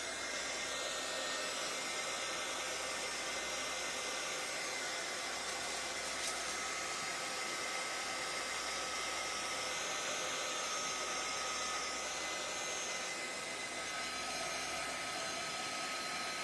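A hair dryer blows steadily on gold paint spread over a scrapbook page, a continuous close airy whir that holds at an even loudness for the whole stretch with no talking over it.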